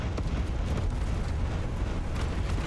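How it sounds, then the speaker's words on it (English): A cruise missile launch in the space shooter Everspace 2, a sustained deep roaring rumble that fills the soundscape steadily without breaks. "I launched the cruise missile"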